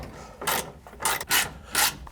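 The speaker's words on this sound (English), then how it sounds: "putting in the screws" Screws driven in with a power driver during a Vintage Air system install on an LS-swapped Chevy Squarebody truck, three short raspy bursts spaced about half a second apart, close by and alone.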